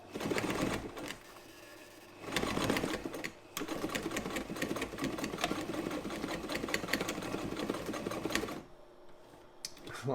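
A Frister & Rossmann 35 sewing machine modified for heavy-duty work stitches through two layers of leather in quick mechanical chattering bursts. It pauses briefly, then runs in a long steady stretch before winding down, close up and with no speech.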